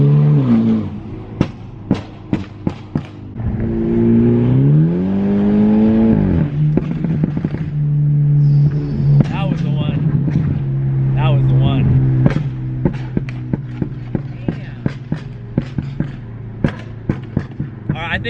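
A tuned BMW F32 428i engine on E85 fuel, with an upgraded charge pipe and intercooler, revs up and down with rising and falling pitch, loud and close, while people talk nearby and sharp clicks and pops punctuate it.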